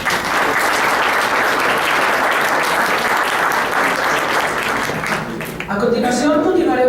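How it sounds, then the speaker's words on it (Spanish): A lecture audience applauds after a keynote talk on water problems in northern Mexico, with dense, sustained clapping filling the hall until a voice starts speaking near the end. "Un aplauso, por favor."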